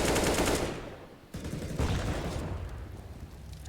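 Loud automatic gunfire on the Vertigo map of Counter-Strike, a dense burst at the start followed by further rattling shots, heard close and without talk.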